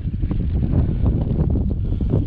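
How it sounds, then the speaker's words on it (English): Cold night wind buffeting a boat out on the water, a loud, constant low roar and rumble from close by, with no talking. "Get out of this cold wind."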